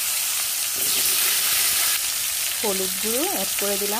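Diced potatoes go into hot oil in a wok, setting off a steady close sizzle that carries on throughout, with brief stirring or clinking near the end.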